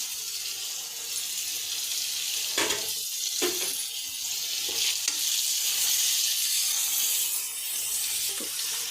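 Carrots and beans frying in a pan make a bright, steady hiss, interrupted by a few soft knocks and scrapes from stirring.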